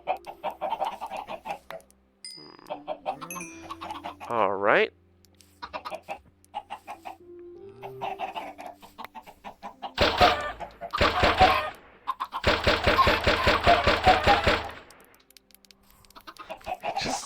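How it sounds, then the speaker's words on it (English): Chickens in a farming video game cluck and squawk in bursts, with a rapid machine-gun-like run of clucks near the end; someone speaks briefly between the calls. "breed all these seedy chickens"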